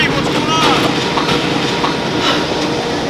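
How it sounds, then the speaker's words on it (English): A train pulling away, loud continuous rumbling and rattling of rail cars with faint wheel squeals, close and steady throughout. "Wait a minute. The train's leaving."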